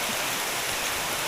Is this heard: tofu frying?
no